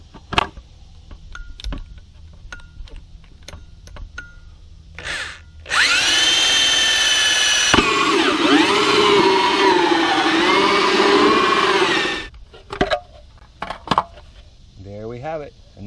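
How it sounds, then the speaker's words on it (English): A 6 amp drill cuts a 4-inch hole for a drain pipe, a loud steady whine lasting about six seconds that dips in pitch as it bites, framed by clicks and handling knocks, with a voice speaking briefly at the end. "that drill's drawing, I think that's a 6 amp drill"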